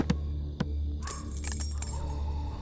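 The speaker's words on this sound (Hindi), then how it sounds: "इंपॉर्टेंट चाबियां हैं वो," Keys jangle in a few short metallic bursts, two sharp clinks early on and then a brighter rattling cluster after a second, heard close over a steady low background hum in an indoor movie scene.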